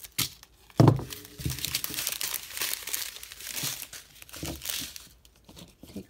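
Scissors snipping open a plastic packet from a diamond art kit, with loud crinkling and crackling of the plastic, a sharp cut near the start and rustling handling throughout, close up with no talking.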